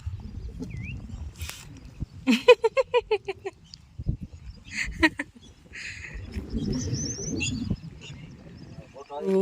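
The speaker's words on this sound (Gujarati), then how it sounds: "અને પક્ષીઓ બોલે છે, એટલે મજા આવે." Bird calls and chirps scattered through the morning air, some close and sharp, with a cooing bird and people talking nearby.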